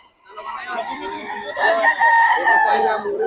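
Boston Roundhead gamefowl rooster crowing close by: one long, loud drawn-out crow lasting about three seconds that rises in strength partway through, with nothing else clearly heard.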